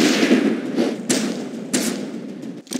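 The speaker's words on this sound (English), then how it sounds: "Fine shooting, Cole" Gunshots in the Western video game Gun, a few sharp thudding shots spaced about half a second apart over a dense rumbling background.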